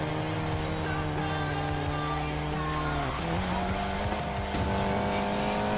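A Volkswagen Golf GTI Clubsport racing on a mountain road in the video game Need for Speed Payback, its engine droning steadily and loudly throughout with a shift in pitch midway and faint tire noise.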